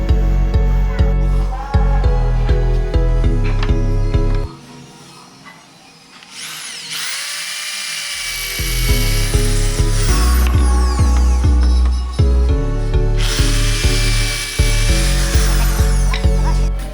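A power drill drives screws into a wooden table during assembly, whirring in loud, close bursts with ratcheting clicks, a short quieter pause in the middle, then more driving.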